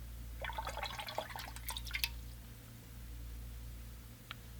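Water splashing and dripping as a watercolor painter empties and refills the rinse-water container, a short burst of wet sloshing up front, then quiet with one small drip.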